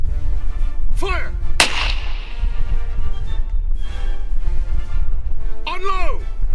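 A volley from Mk I Lee Metford rifles: a single sharp, loud crack fired together in one burst, with shouted voices before and after it.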